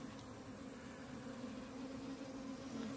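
Honey bees working in the top of a hive box, a steady, dense low hum with no pauses, close and continuous throughout.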